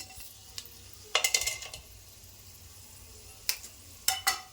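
Whole spices such as bay leaves, cloves and cardamom hit hot oil for tempering, giving a faint low sizzle with a few short sharp crackling bursts at irregular intervals.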